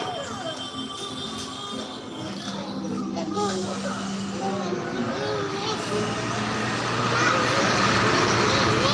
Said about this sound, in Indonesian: Itu ada truk tuh.